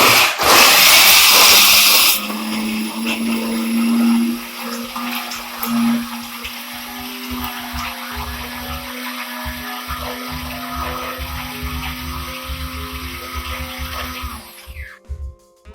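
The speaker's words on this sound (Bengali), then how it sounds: "এবার চালমগজ, কাঁচা লঙ্কা, আদা মিক্সির বাটিতে দিয়ে মিক্সিতে পেস্ট করে নেব।" A kitchen mixer grinder whirs loudly as it blends melon seeds, green chilli and ginger into a paste, a harsh high motor roar at first that settles into a steady buzzing hum before cutting off near the end.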